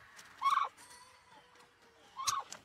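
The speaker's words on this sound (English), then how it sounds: "I think I got a new rooster over here." A rooster in a chicken tractor on a homestead calls twice in the morning, with two short, fairly close crows a couple of seconds apart and quiet in between.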